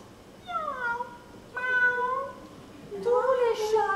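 Cats meowing at a reading of a children's story, a few separate drawn-out meows in turn, fairly close and clear with no talk over them.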